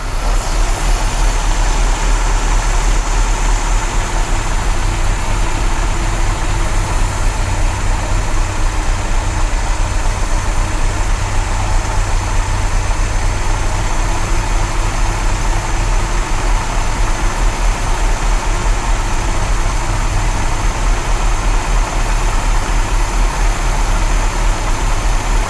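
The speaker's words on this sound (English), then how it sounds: "So now let's start the car up and see how we're doing." A 1972 MG MGB engine idles steadily after SU carburettor adjustment, a continuous low even rumble running loud and close without a break or change in speed.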